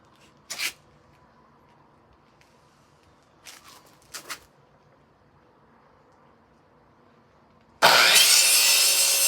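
Saw cuts through wood for a picture frame with a mitre saw set at 45 degrees: a few brief scrapes near the start, then a loud, sustained, rough cutting burst in the final second and a half.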